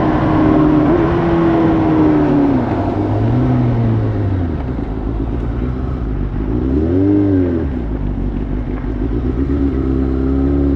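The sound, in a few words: motorcycle accelerating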